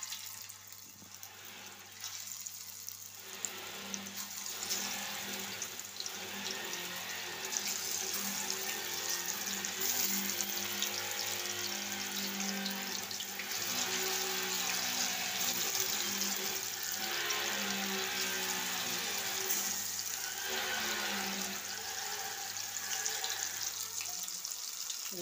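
Chicken pakoda pieces fry in hot oil in a home kitchen, giving a steady, dense sizzle and bubbling that carries on throughout at a moderate level, with no one talking.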